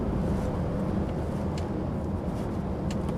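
An HGV truck rumbles along a winding country road with its engine brake engaged, a steady low droning roar from inside the cab, continuous and fairly quiet, with no talk over it.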